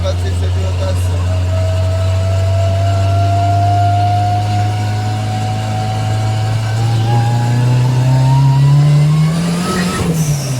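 A turbocharged VW Gol with a forged gearbox revs hard against its rev limiter inside a tunnel, a loud sustained engine drone that climbs steadily in pitch and echoes off the walls.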